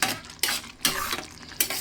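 A spoon scrapes through egg tomato curry in a pan in four quick, loud strokes in a brisk steady rhythm, close up with no voices.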